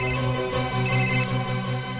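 A mobile phone plays a melodic ringtone for an incoming call, a loud, sustained tune that runs on steadily with no voices.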